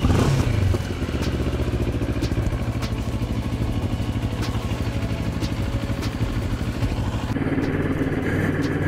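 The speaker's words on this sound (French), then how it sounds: "Allez, on fait chauffer le moteur." A Moto Morini X-Cape motorcycle with a Kawasaki 649 twin engine idles while warming up, a steady close mechanical thrum with ticking clatter, after a louder burst at the start.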